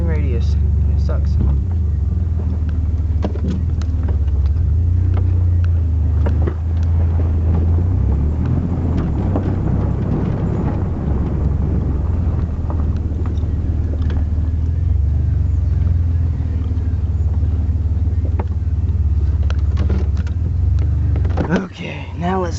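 A Dodge Dakota pickup truck engine rumbles steadily at close range as the truck drives and turns, with low road noise and wind buffeting throughout.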